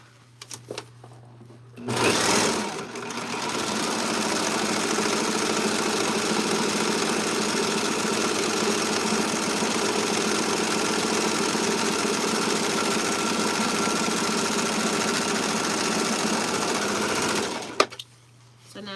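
A sewing machine finishes the edge of a pants pocket, running in one steady, close, mechanical whir for about fifteen seconds after a brief start, then stopping.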